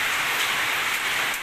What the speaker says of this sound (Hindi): बारिश के साथ साथ जनाब ओले जो बर्फ़ होती है वो भी पड़नी शुरू हो चुकी है।